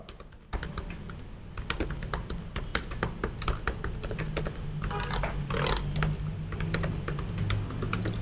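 Steady, fast typing on a Snapdragon X Elite laptop keyboard with premium keycaps and about 1.5 mm of key travel, its soft clicks and taps close and continuous, with no talking.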